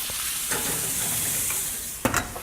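Pork chops searing fat side down in a hot pan, a steady loud sizzle and crackle throughout, with a brief clatter near the end as the meat is shifted.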